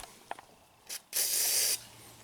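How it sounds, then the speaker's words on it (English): Penetrating oil sprayed from an aerosol can onto the suspension of a Honda Accord during a lower control arm bushing job: a short hiss, then a longer, steady spray of about half a second, close and fairly loud, after faint clicks. "we'll just spray this down with penetrating oil, see if it helps us"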